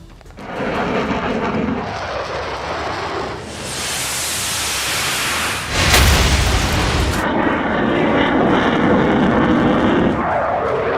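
A loud roaring fighter jet passes overhead, the broadband rush swelling, peaking sharply near the middle and then trailing off into a sustained rumble.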